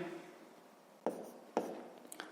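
A pen writes by hand on paper while working a sixth-grade math exercise, with a faint soft scratching broken by a few sharp taps of the pen on the page, quiet and close.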